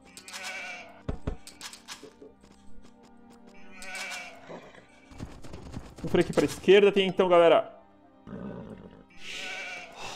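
Sheep in an Age of Empires 2 HD game bleat in short, wavering bursts around the middle of the stretch, along with clip-clop game sounds, while someone talks over them in Portuguese.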